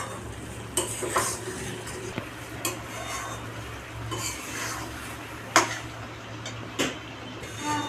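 Mutton being stir-fried in a pan with a little hot water for a potato mutton curry, a continuous sizzle broken by repeated clinks and scrapes of a spatula against the metal, close and busy.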